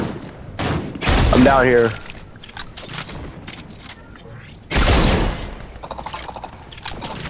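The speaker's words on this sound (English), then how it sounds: "Ah, stop, stop, he's shooting me." Video game gunfire sounds in loud, dense bursts: one long volley early on and another later, with scattered shots between them. Players talk excitedly over the shooting.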